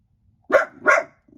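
A dog gives two sharp, close barks in quick succession from inside a house, aimed at an outdoor dustbin, followed by a brief faint rustle.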